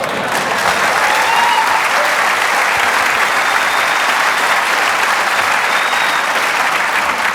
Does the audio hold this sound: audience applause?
yes